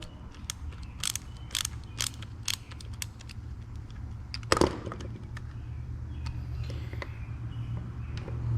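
A chainsaw handle, on a Stihl 200T, being pried apart with a screwdriver: a quiet series of sharp plastic clicks and snaps, with one louder crack midway, against faint background hum.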